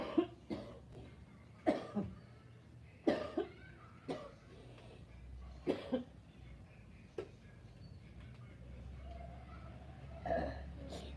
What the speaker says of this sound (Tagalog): Tinamaan pa tayo ng ubo.